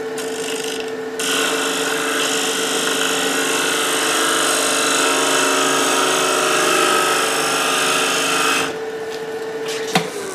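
Wood lathe turning an enclosed form with a gouge, a loud steady rasping hum with tool vibration chatter that stops abruptly near the end.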